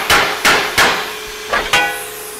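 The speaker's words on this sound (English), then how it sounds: "We cut the rivets, air chiseled them out." A hammer drives out cut rivets while a GM C1500 suspension is being installed: five sharp, close metallic strikes land at an uneven pace with short ringing decays between them.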